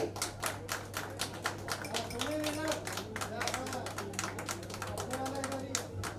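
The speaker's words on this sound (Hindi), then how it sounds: "जोरदार तालियां हो जाए." Fairly faint scattered clapping from an audience at an OTT streaming platform launch event, sharp individual claps mixed with chatter and voices over a low electrical hum.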